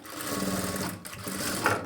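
A sewing machine stitches a plain blouse in a fast, steady mechanical whir with brief pauses, close by and moderately loud.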